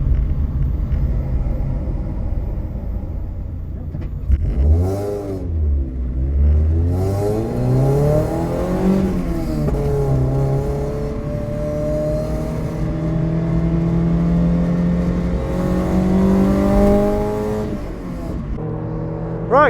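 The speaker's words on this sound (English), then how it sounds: "here we are on track round Alton Park in a Mark 1 MX5" A Mark 1 Mazda MX5 on the Alton Park race circuit revs hard through the gears, its engine note climbing and dropping with shifts, loud and close from inside the cabin with wind rumble underneath.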